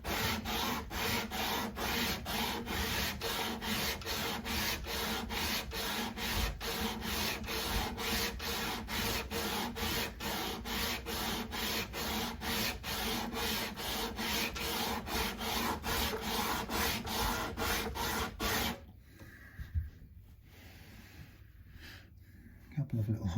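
Sandpaper is rubbed back and forth along the fretboard of a Yamaha Compass Series 12-string guitar during a refret, a close, steady rhythmic rasping of even strokes that stops near the end.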